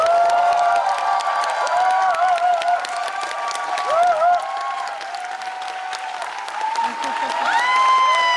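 A concert crowd in Daegu applauds a band and string section at a show, with cheers and whoops rising over sustained tones; loud, continuous clapping that swells again near the end.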